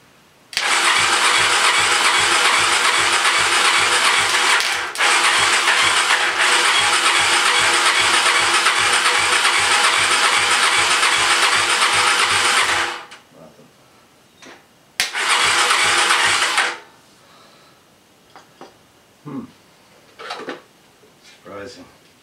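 An SX motorcycle engine cranks loudly and steadily for several seconds with a rhythmic chugging, pauses, then cranks again briefly, followed by quieter scattered knocks and puffs as it sputters without catching.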